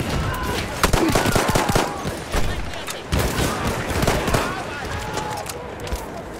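Enemy machine gun fire in Battlefield 1, with bursts of rapid gunshots and loud cracks repeating across the battlefield, mixed with other gunfire and shouted voices.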